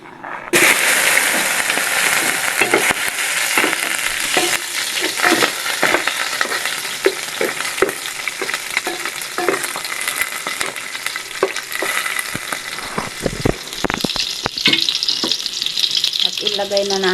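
Onion and tomato sauté in a pan for a chicken kinamatisan, a steady loud sizzle running throughout with intermittent scraping stirs and small pops, no voices over it.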